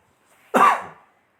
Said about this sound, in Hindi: खांसी सी हो गई